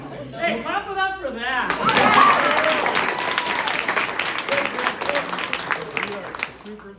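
Applause at a flag football end-of-season awards party, loud sustained clapping and cheering that bursts in after a short spoken line and carries on to the end.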